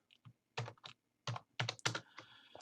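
Typing on a computer keyboard, heard as several short bursts of clattering keystrokes with pauses between them, close and fairly loud, with no talking.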